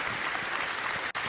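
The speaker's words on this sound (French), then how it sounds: "Applaudissements pour la Guyane, s'il vous plaît." An awards ceremony audience applauds for Guyane at a regional Talents des Cités event, a dense, steady wash of clapping filling the moment with a tiny break near the end.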